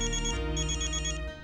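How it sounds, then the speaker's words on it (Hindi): A mobile phone ringtone plays a bright, repeating electronic melody for about a second and a half before cutting off, clear and fairly close. "ये अनन्या का फोन मेरे नंबर पे क्यों आ रहा है?"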